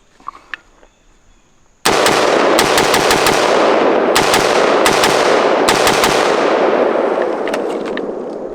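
A PSA PA-15 AR rifle firing .223 rounds outdoors, loud sharp cracks fired in a rapid string of shots over several seconds after a quiet start, each with a ringing tail.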